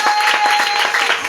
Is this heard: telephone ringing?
no